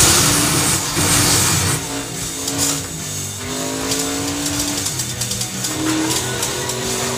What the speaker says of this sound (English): Come on, Bolky, use that nitrous